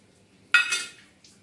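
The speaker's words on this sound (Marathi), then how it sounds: "हे अद्रक ठेचून घेत आहे" Fresh ginger crushed and pounded for a Maharashtrian spice paste with garlic, peanuts, chillies and cumin: one sharp, clattering strike that rings briefly against the stone or metal before a faint second tap.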